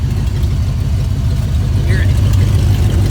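A Ford LTD LX idles with a loud exhaust full of holes, a constant deep rumble that stays close and dominant, with faint speech-like sounds over it.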